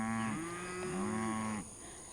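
Cattle on a ranch during an auction-day roundup let out a long, wavering moo that bends in pitch and cuts off abruptly, heard up close over a steady background hum.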